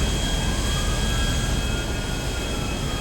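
A steady, droning airplane engine roars continuously at high volume with no voices, in the video game Grand Theft Auto V.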